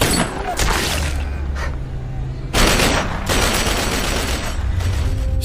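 Loud bursts of rapid gunfire from a zombie film, shooting at zombies on a remote island, crackle and boom in repeated volleys, dense and close, with heavy low thumps running underneath.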